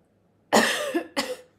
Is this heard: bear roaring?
no